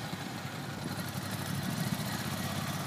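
A new Ducati motorcycle on a tall bike rolls along at slow riding speed, with a steady, close, low engine rumble and throb that holds an even level throughout, without any talk.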